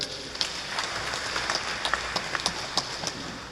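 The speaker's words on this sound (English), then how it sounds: "You should clap for them." Audience applause at a gathering honoring John Kakooza, a steady wash of many hands clapping with a few sharper nearby claps standing out.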